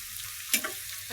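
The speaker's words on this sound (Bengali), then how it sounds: "আর এখানে দিয়ে দিচ্ছি পেঁয়াজ মরিচ, তেলে ভুনে নেব।" Chopped onion and green chili frying in hot oil, a steady soft sizzle with a brief louder crackle midway, close and alone without talk.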